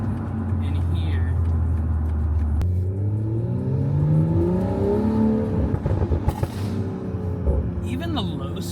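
Exhaust of a BMW M340i fitted with an aftermarket valvetronic system, a deep burbling drone at low speed that rises and falls in pitch with revs, close and loud, with a voice speaking over it.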